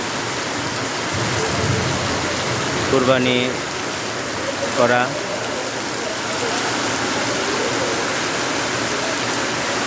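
Heavy rain pours steadily over a Rohingya refugee camp, a dense continuous hiss filling the whole stretch while someone talks over it.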